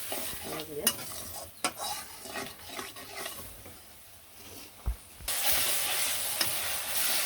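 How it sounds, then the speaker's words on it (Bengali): Spice paste being stirred and fried in a pan for a potato and soybean dish, with soft close sizzling, intermittent scraping strokes and utensil taps, and the sizzle swelling louder near the end. "একটু মশলাটা কষিয়ে নিই"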